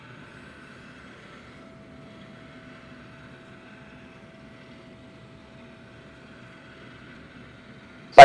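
A wood lathe spins a square wooden blank, giving a faint, steady low hum with a thin tone held throughout, ended by one sharp loud click.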